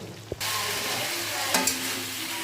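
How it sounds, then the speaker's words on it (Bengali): Spice masala frying on reduced heat for a light fish curry, a continuous near sizzle broken by a couple of sharp stirring scrapes. "রাসটা কমিয়ে মশলাটা ভালো করে কষিয়ে নেব"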